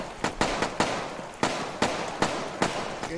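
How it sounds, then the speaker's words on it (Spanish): A rapid series of sharp gunshot cracks in the video game Arma 3, about nine in a row at irregular intervals, loud and close with no talking. "Entran tiros, me voy al otro lado."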